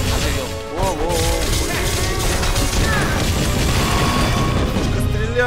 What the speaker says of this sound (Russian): Пушка стреляет.